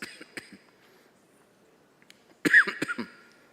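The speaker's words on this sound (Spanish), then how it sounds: "Perdón la tos." A single harsh cough cluster bursts out near the end, loud and close, after a few faint sounds in an otherwise quiet room.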